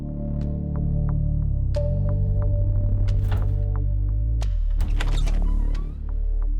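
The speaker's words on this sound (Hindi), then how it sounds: "एसी लगा हुआ है, वर्किंग है" An air conditioner runs in a large hall, giving a steady, loud, droning hum with a few faint clicks scattered through it.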